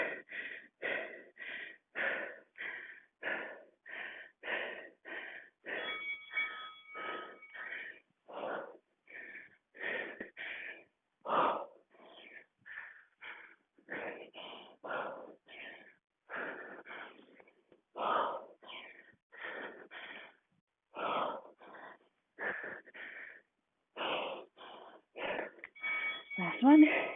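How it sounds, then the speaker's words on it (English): Heavy, rhythmic breathing from someone working through a tabata workout, with quick sharp breaths and gasps repeating steadily and close up the whole way through. "Bet you can hear all the breathing."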